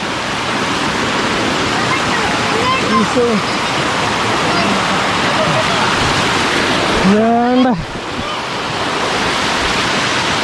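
A waterfall rushes with loud, continuous broadband water noise close by, while people talk briefly over it.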